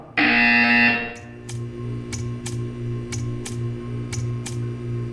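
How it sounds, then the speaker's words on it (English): A loud, harsh electronic buzzer from the video game Portal 2 blares for about a second, then steady ticking follows over a low droning hum. "You will hear a buzzer."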